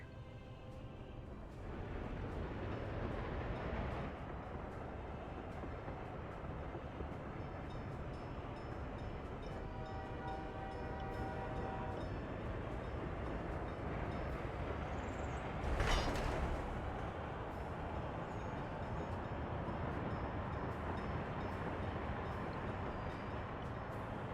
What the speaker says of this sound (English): And there's a different train on the same train track.